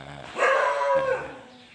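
Dogs at a temple give a short burst of yelping barks at close range, one loud bark rising and trailing off in a whine against a quiet background.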